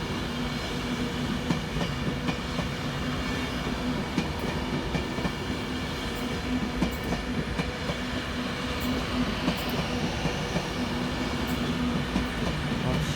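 A train runs non-stop through Crewe station on the West Coast Main Line, a steady rolling rumble with rhythmic clickety-clack of wheels and faint squeals, continuous throughout.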